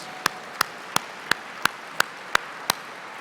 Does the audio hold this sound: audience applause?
yes